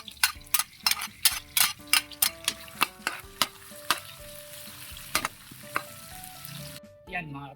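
Garlic and onion fry in hot cooking oil with a steady sizzle, punctuated by a rapid series of sharp metal spatula scrapes and clinks against the pan, close and loud.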